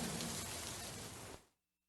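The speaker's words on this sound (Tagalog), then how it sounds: "lakas ng ulan." Heavy rain falls as a dense, steady roar that is loud and close, then cuts off abruptly near the end.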